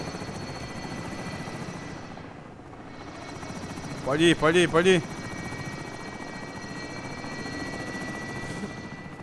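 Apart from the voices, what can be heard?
helicopter taking off, from a video game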